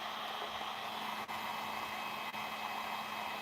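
A small turbocharger housing is heated from the back with a flameless heat gun, giving a steady, loud airy rush broken by two brief dips; no one talks.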